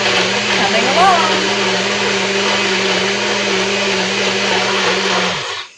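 A kitchen blender runs loud and close for about five seconds with a steady whirring roar and a brief pitch wobble near the start, then spins down at the end.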